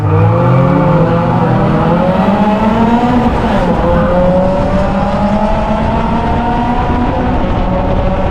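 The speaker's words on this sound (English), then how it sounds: "We're away and racing for round 9 of the Miata Trophy of Great Britain." A pack of Mazda Miata race cars pulls away at the start of a race at Oulton Park, engines droning loudly together as they rise and shift through the gears, with no voices.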